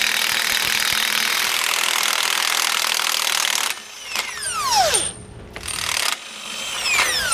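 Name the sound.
impact gun loosening tight bolts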